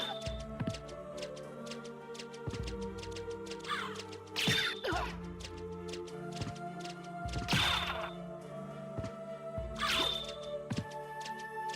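Crows cawing in the video game Castlevania: Symphony of the Night, harsh calls repeating at irregular intervals over layered game music with sharp percussive hits, no speech.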